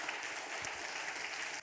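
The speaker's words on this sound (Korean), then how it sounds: "우리의 찬양을 받으신 하나님께 박수로 영광 올립니다." Congregation clapping together in church during a Sunday worship service, a steady dense wash of applause sustained throughout at moderate level.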